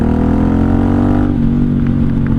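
A 1983 Honda Shadow VT750C motorcycle runs steadily and loudly at close range while being ridden, its engine holding a continuous low drone with slight shifts in pitch and no voices over it.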